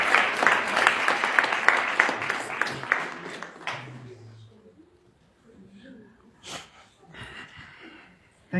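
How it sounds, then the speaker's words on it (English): An audience of youths applauds a speaker in a brisk burst of clapping that lasts a few seconds before dying away, leaving scattered small noises and breaths in a quieter room. "Can you guys please give him a round of applause?"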